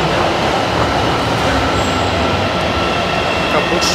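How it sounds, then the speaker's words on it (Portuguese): A São Paulo metro train arriving at a station, with a steady loud roar of wheels and motors filling the platform throughout, plus a faint high squeal near the end. "Acabou de chegar o metrô,"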